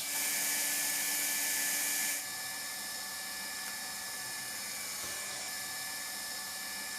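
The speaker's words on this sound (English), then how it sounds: "Heat up the hand-operated hot welding gun, place it on the joint and seal it using the hot welding rod" Hand-operated hot air welding gun blowing steadily while sealing a seam with welding rod on floor covering, a continuous close airy whine that drops in level after about two seconds and then holds steady, with no voices.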